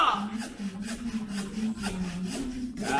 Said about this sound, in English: Let the saw do the sawing